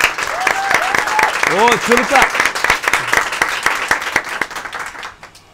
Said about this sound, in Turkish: Alkışlarınızla başlıyoruz.